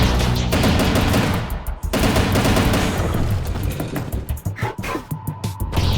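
Enemy gunfire in a first-person video game, dense automatic bursts with heavy booming impacts filling the whole stretch, loud and close, with no talking.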